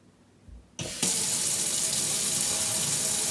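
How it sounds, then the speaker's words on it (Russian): Water bursts on from a touch-sensor kitchen faucet after brief quiet, a clunk of the valve opening followed by a loud, steady hiss of flow splashing into the sink, close and continuous. "Вода пошла."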